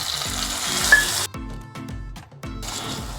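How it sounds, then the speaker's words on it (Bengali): Fried onions with hot oil poured over chicken korma in a pan, giving a loud continuous sizzle and crackle that briefly drops away and then returns, with no talking. "এবার আমি তেল সহ বেরেস্তা ঢেলে দিচ্ছি"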